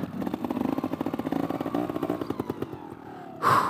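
A trial motorcycle engine putters in fast, uneven pulses and briefly revs, close by, before a short burst of rushing noise at the end.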